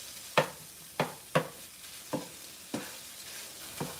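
Oil crackles and sizzles softly while Mexican stir-fry is stirred in a pan, with six sharp scraping strokes at a steady, unhurried pace.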